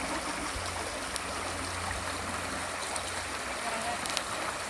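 Creek water flowing steadily during a stream crossing on a trail from Boxley to Steel Creek, a continuous close rushing babble with faint scattered splashes and no clear talking.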